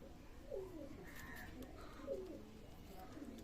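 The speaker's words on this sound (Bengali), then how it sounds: "সেখানে একজোড়া ব্ল্যাক টেডি কবুতর আছে।" Black teddy pigeons coo in a loft, two soft low warbling coos roughly a second and a half apart over a quiet background hum.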